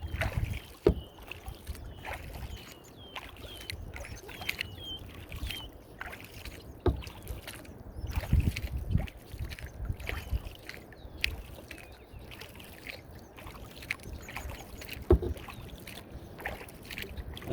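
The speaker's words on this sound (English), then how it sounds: "That's the most paddling I've done in a long time." Canoe paddling on a mill pond, quiet rhythmic paddle strokes and water dripping close by, with light wind and faint outdoor ambience, no talking.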